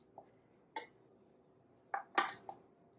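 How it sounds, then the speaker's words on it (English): Strawberries being stirred in liquid in a bowl, heard as a handful of sparse, distinct clinks and soft knocks of a spoon against the bowl, separated by quiet gaps, with no voices. "So we add our strawberries to our liquid. Stir them around."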